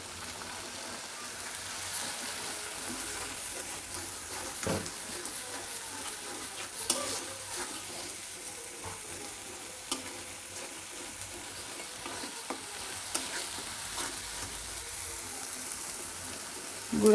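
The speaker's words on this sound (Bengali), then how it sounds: "এখন আমি দিয়ে দিব আদা রসুন বাটা" Ginger garlic paste fries in oil for a potato and katla fish curry, giving a moderate, steady sizzle with scattered sharp crackles and a few light utensil knocks, no one speaking.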